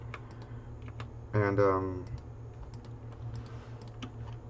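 Typing on a computer keyboard, with light, rapid keystroke clicks spread throughout at close range over a steady low hum, briefly interrupted by a single spoken word.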